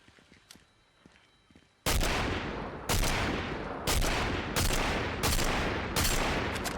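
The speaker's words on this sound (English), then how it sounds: "All bad shots, all bad shooting." Loud, close gunfire in the video game Fortnite, a series of about five heavy shots spaced roughly a second apart, each with a long booming tail, following a quieter stretch of faint game sounds.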